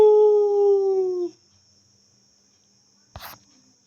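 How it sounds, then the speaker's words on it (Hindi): Street dogs howl, one long, loud, drawn-out wavering howl close by that fades out after about a second, followed by quiet and a brief sharp knock. "किसी आत्मा या किसी की मौत का आभास पाकर गली के कुत्ते रोने लगते हैं"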